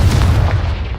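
A loud, close boom from a Confringo fire spell in Hogwarts Legacy, a single deep blast with a rumbling low-end tail that fades over about a second.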